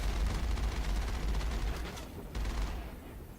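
Heavy sustained gunfire rattles continuously while fighting a Colossus in the Mass Effect video game, loud and dense, easing briefly near the end.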